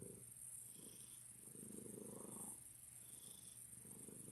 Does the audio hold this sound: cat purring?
yes